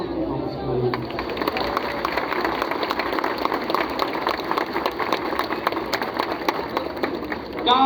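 A crowd claps steadily for the volunteer couples at the Festa de Santo Antônio in Lajedo, Pernambuco, a dense wash of applause lasting several seconds with voices mixed in.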